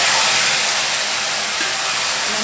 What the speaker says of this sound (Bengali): এবার আমি মাশরুমটা এই দেখুন দিয়ে দিচ্ছি তেলের মধ্যে